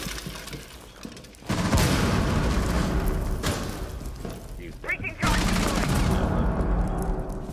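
Rainbow Six Siege gunfire and a grenade blast in a loud game firefight: a sustained roar of shots and booms, with a sharp burst and shattering near the end, with no clear voice above the noise.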